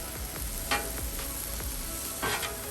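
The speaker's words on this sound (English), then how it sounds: "Let me stir it in good to just see how it looks" Meat and vegetables for a Philly cheesesteak being stirred on a hot flat-top griddle, with steady sizzling broken by several scraping spatula strokes at close range; no one speaks.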